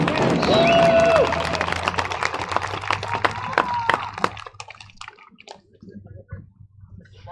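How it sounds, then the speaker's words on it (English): Crowd applause at a high school football game's senior night in Wyoming, a burst of clapping and cheering over a stadium PA that fades out after a few seconds, leaving scattered claps. "How about another round of applause"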